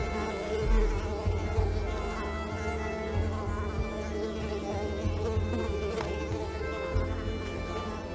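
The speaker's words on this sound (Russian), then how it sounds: "Опять доебались комары." A swarm of mosquitoes buzzes steadily and loudly in the video game Unravel, a continuous insect drone with a tonal hum and no breaks.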